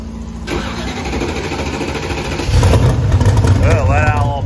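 A methanol-fueled drag race car engine cranks over and fires up after a big tuning change, settling into a loud, rough rumble that grows heavier partway through, with people talking over it.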